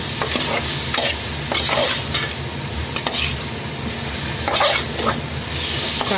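A paneer and vegetable dish stirred in a hot pan makes loud, continuous frying sizzle broken by repeated scraping strokes of a spoon, close up, with no one talking.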